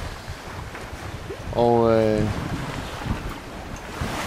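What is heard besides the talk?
choppy sea waves around a sailboat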